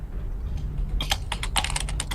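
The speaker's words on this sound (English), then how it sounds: "Hey Crimson, can you mute your mic when you're typing up a storm like that? It's pretty loud." Fast, loud typing on a computer keyboard picked up by an open microphone during an online Mechwarrior game session, a rapid cluster of sharp clicks and clacks coming after a quiet start.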